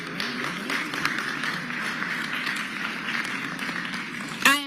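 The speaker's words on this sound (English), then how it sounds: "Let's give them a round of applause." A council chamber crowd applauds a Georgia High School Association Class A D1 state champion basketball team, a steady wash of clapping filling the room at moderate loudness, with a short sharp burst near the end.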